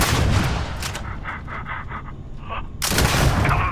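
An explosive-round gun in the game Starfield fires, with a cluster of sharp, loud blasts at the start and another heavy burst of booming shots toward the end, separated by quieter rumbling game ambience.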